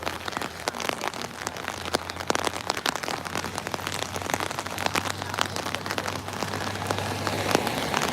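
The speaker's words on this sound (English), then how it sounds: "I underestimated the cold and the rain" Steady rain pattering densely on surfaces outdoors during a charity walk, a constant close hiss of drops with scattered sharper taps and no voices over it.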